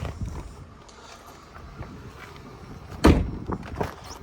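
Back door of a 2004 GMC Yukon XL closing with a single solid thud, fairly close, followed by a few lighter knocks against a quiet background.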